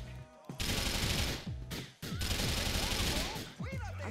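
Rapid bursts of automatic gunfire in the video game Grand Theft Auto 4, loud and dense with short gaps, and a voice briefly near the end.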